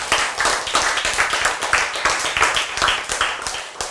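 A congregation claps together during a church sermon, making loud, steady, rhythmic claps at a brisk even tempo for several seconds with no talking.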